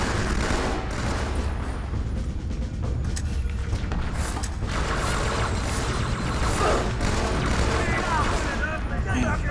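Battle rifle fire in Halo 2 rattles through a dense, continuous wash of game combat noise, with bursts of shots layered over explosions, and people talk over it.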